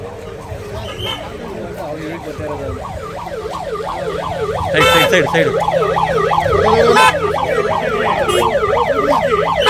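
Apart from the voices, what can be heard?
ambulance siren passing on road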